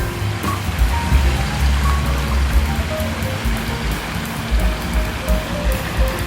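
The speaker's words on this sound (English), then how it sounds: "I bet you didn't know there was a waterfall downtown." A downtown waterfall at Garvey Plaza, a multi-level shopping area and outdoor garden in Wichita, pours with a steady, full rushing wash that stays loud and continuous throughout, with faint background activity underneath.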